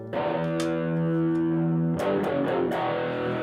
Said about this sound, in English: Here's what distortion sounds like.